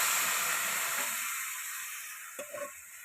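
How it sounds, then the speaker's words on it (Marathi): Cooked drumstick pods sauté in a cumin and garlic tempering with turmeric and black masala on a wood-fired stove, giving a steady close sizzle that slowly eases, with a brief clatter near the end. "त्या फोडणीवर चांगल्या परतून घेते."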